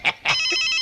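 A telephone bell rings in two short bursts followed by a longer sustained ring, close and clear with no talking over it.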